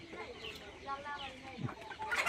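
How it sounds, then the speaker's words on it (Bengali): Free-range country chickens clucking on a farm flock of over five hundred birds, short faint clucks and calls at close range over quiet background, with brief talk. "আমাদের প্রায় পাঁচশো প্লাস মুরগি আছে"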